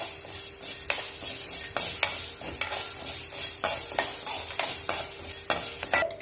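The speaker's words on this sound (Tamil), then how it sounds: "அதை நம்ம இப்போ லேசாக இதே மாதிரி வறுத்துக்க போகிறோம்" Black pepper dry-roasting in a pan, stirred with a spoon that scrapes and clinks against the metal in regular strokes, with a faint sizzle underneath and no talking.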